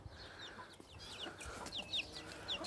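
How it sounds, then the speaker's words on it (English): Chickens on an allotment cluck softly in short, scattered calls over a faint, quiet outdoor background. "So look at the chickens, they're really sweet."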